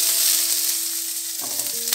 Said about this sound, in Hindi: मैं इसमें अब डाल रही हूँ प्याज। और अब हम इसको प्याज को अच्छे से टॉस करेंगे।